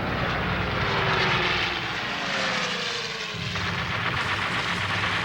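WWII fighter planes, P-40s and Zeros, dive in combat: a loud, steady roar of aircraft engines fills the scene, with faint tones sliding downward and a slight shift in the drone partway through.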